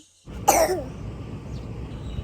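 A single sharp cough close up, lasting about half a second, after a short silence, followed by a low steady room hum with no speech.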